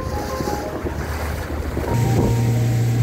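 A private speedboat cruises across Lake Como, its engine droning steadily under rushing wind and water wash, with the hull noise swelling louder toward the end; no voices.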